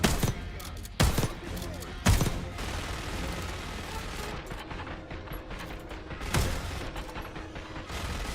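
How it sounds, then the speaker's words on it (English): A minigun fires in the Call of Duty Black Ops 6 campaign, a dense, continuous roar of gunfire broken by several sharp, louder cracks, with no break for the whole stretch. "Take cover! Stay low until that minigun stops spinning."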